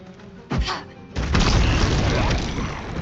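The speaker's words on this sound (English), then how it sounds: "Throw. Flammable slime bomb" In Baldur's Gate 3, a flammable slime bomb lands with a short thud, then bursts into a loud, broad boom that rumbles and hisses on for about two seconds, close and without talk.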